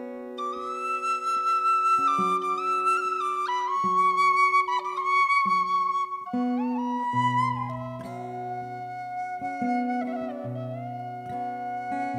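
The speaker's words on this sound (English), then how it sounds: "gives chance, if only, for Snake to get his little whistle out" A small whistle plays a bright melodic line alone at a live folk performance, with clear sustained notes and quick ornaments over a steady accompaniment, close and fairly loud throughout.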